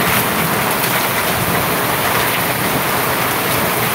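Persistent rain comes down over farmland in an unbroken, loud broadband rush, with no voices and no pauses.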